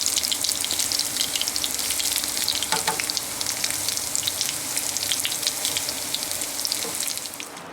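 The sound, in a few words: coconut shrimp frying in hot oil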